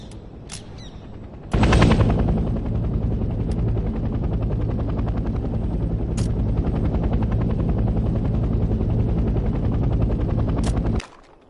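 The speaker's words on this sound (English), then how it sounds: "The transport helicopter is used primarily to transport squads quickly across the battlefield." A Hell Let Loose Vietnam transport helicopter's loud, steady rotor thrum starts abruptly and drones on, with sharp bursts of gunfire cracking in the distance, then cuts off.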